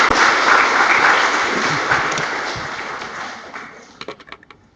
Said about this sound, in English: Let us applaud them for their contribution.